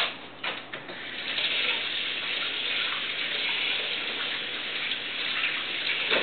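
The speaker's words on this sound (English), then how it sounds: "wash your hands first" Steady stream of tap water splashing into a sink while hands are washed, close and continuous throughout, with a few brief knocks near the start.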